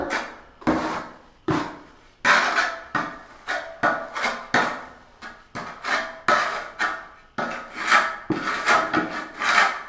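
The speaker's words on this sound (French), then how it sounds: "On vient nettoyer notre carreau." Repeated brisk scrubbing and rubbing strokes as a floor tile is cleaned of residue before laying in a shower room, a steady rhythm of close, fairly loud bursts with no talk.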